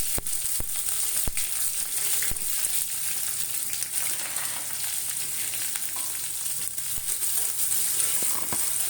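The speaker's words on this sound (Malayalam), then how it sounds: "നമുക്ക് ഓരോന്നായിട്ട് ചേർത്ത് കൊടുത്ത് വഴറ്റിയെടുക്കാം." Garlic, ginger, tomato and curry leaves sauté in oil in a pan for a sardine fish curry, giving a steady close sizzle with a few sharp clicks of utensils, no voices.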